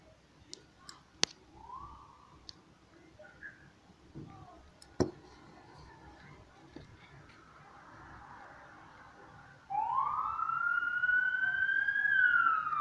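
A siren rises into a loud, steady wail near the end, entering abruptly after a stretch of quieter background sounds and scattered clicks.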